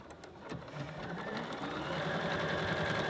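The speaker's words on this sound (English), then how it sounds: "Do you hear how quiet it sews too?" A Bernina 790 Pro sewing machine stitches fabric with a quiet, rapid, even whirring rhythm that settles into a steady run, heard close and alone.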